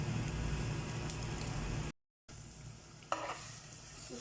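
Ginger garlic paste sizzles and crackles steadily in hot oil in a pan, close and continuous, with a brief cut and a single stir or clink near the end.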